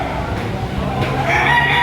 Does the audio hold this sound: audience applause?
no